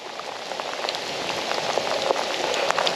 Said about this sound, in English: all of a sudden the downpour came